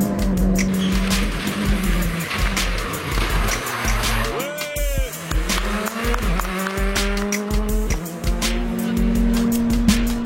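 A Citroën C3 R5 rally car at a rally finale, engine revving hard with sharp gear-change dips and tyre squeal as it passes at speed, loud and close, with some crowd or commentary noise underneath.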